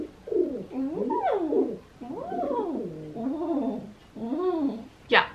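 A pigeon coos close by, repeating a series of soft, rolling, throaty calls in several bursts, each rising and falling, with no talking.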